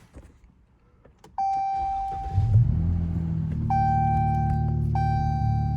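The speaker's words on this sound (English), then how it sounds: "I do have to turn on the car for that." A Dodge Challenger's dashboard chimes ring out before the engine cranks and catches with a deep rumble, settling into a steady low idle while the chimes keep repeating.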